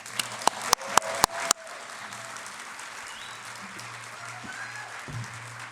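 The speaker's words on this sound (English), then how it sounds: "Please join me in a big round of applause for Rosental Alves" A conference audience at the 25th ISOJ opening applauds Rosental Alves. A few sharp, close claps ring out first, then a steady, softer wash of crowd applause carries on to the end.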